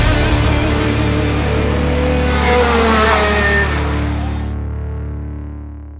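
Racing go-karts at Kartcentrum Lelystad give a loud, close engine roar as they accelerate off the start. The droning tone holds steady, then fades slightly toward the end.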